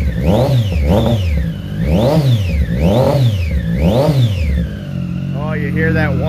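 Triumph Daytona 675 triple-cylinder sport bike engine revving hard in repeated rising and falling sweeps, with a high gear whine over the loud exhaust, followed by a steadier lower idle as a voice speaks near the end.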